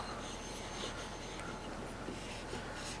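A finish is rubbed by hand onto a thrifted item from World Market, giving a continuous soft, close friction sound of cloth on a surface with no talking.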